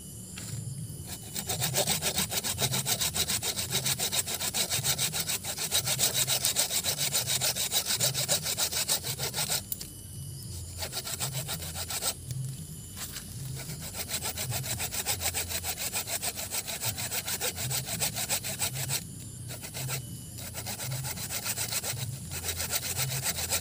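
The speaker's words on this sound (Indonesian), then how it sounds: "kita pakai gergaji legend lagi ya" A hand saw rasps back and forth through banyan bonsai wood in a fast, steady rhythm, close and loud, with a few brief pauses between strokes.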